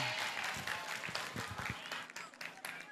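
Audience applause at a Ramadan Tabligh Akbar gathering in Purwakarta, a dense wash of claps from a large crowd running throughout, fairly distant and even in level with a few louder bursts.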